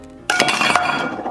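A frying pan strikes a toy egg with a sudden sharp hit, followed by a flurry of bright clinking and rattling knocks that ring out close and loud for about a second.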